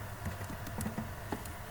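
Fingers tap on a computer keyboard during PHP coding, producing soft, scattered key clicks in short irregular bursts, faint and close over a low background hum.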